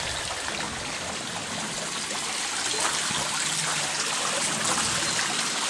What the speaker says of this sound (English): run the water from the filter through the bridge to create a nice waterfall effect